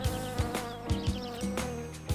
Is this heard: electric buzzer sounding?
no